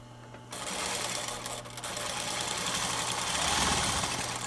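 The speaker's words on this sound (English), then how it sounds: "sew it through your sewing machine just really quick" A sewing machine stitching a handmade fabric mask runs steadily, its rapid mechanical stitching hum starting after a brief pause and continuing loud and close throughout.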